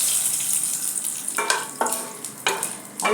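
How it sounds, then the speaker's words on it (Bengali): Panch phoron spices hit hot oil in a wok while mango pickle is prepared, giving sharp sizzling bursts that flare and fade several times over a steady background hiss, close and fairly loud. "এবার 5 ফোড়ন কড়াইতে দিচ্ছি"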